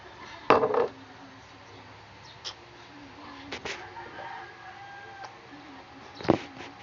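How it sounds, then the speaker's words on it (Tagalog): Dishes are washed at a home sink, with a few sharp clinks and clatters of plates and utensils standing out over a quiet, steady background, including one loud knock near the start and another near the end. "maghuhugas na pala ako ng pinggan"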